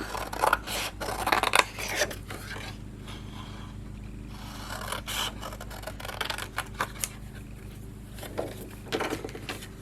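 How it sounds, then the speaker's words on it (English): Close, crisp snips of scissors cutting through paper, irregular bursts of cuts with rustling and short pauses between them. "then we're going to take our scissors and cut it out"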